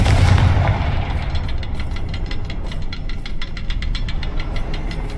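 Fiery spell explosion from Hogwarts Legacy: a loud rumbling blast at the start, then a sustained crackling burn with rapid popping bursts over a low roar for several seconds, no voices.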